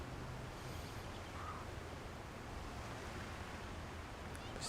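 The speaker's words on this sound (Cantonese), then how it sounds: "大浪嘅聲音" Ocean surf washes onto a beach in a soft, steady broadband rush with gentle wind. It stays faint and even throughout, with no distinct individual wave crashes.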